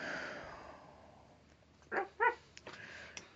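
Two sharp woofs from a dog in a home, close and fairly loud after a quiet stretch, followed by a few softer yips and snuffles.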